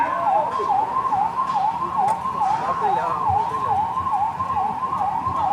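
A wailing ambulance siren sweeps up and down in steady, repeating cycles, loud and continuous over a busy background rumble, arriving at an NTPC industrial site during an emergency rescue drill.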